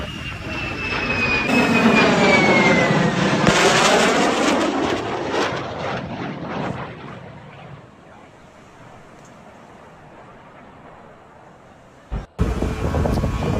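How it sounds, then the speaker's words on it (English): An F-16 fighter jet flies in fast with a loud, rising jet roar and a sweeping pitch shift as it passes close overhead, then fades to a distant rumble before a brief sharp burst near the end. "you see that F-16 coming in hot"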